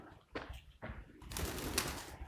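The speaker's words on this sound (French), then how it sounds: "Et les oiseaux." Faint birds chirping outdoors at an abandoned factory over steady wind and rustling, with a few soft knocks early on.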